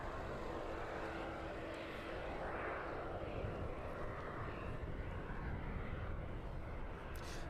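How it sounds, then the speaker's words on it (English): A Boeing 757 jetliner touching down on runway 27 at East Midlands Airport in the evening, heard from a distance as a steady, broad engine roar that holds evenly throughout with no voices. "Right, then the 757 just passing the runway threshold. That one should be touching down now."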